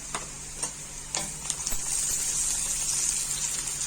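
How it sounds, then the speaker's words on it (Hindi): One spoonful of garlic fries in hot oil with onions for a cauliflower and mutton curry, giving a steady bright sizzle with a few sharp stirring taps. "1-2 सेकंड लहसुन को फ्राई कर लेंगे, ज्यादा नहीं फ्राई करना"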